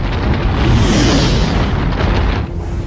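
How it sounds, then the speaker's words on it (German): A massive cosmic explosion as two planets burst apart, a loud, sustained roaring boom with a dense rumbling body that holds for nearly three seconds before dipping slightly at the end. "Beide Welten zerbersten."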